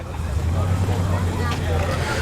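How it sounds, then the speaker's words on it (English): A Dax replica Cobra with a big engine pulls away under a steady low rumble, heard amid outdoor crowd chatter at a morning car meet. "as that lovely, very convincing Dax replica Cobra goes off."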